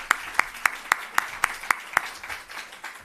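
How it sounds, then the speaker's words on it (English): Slow, evenly spaced hand claps ring out at a rural investment summit in South Africa, about eight sharp claps in steady rhythm before trailing into scattered softer applause. "Now let's give him another big round of applause."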